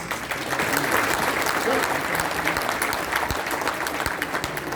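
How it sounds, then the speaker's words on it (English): A crowd at a speaking event in Chicago breaks into sustained applause, a dense even wash of clapping holding steady at moderate loudness for the whole stretch, with faint voices underneath. "Give him a round of applause"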